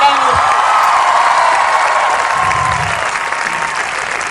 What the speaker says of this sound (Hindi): एक बार हमारे कॉलेज के लिए जोरदार तालियां होनी चाहिए।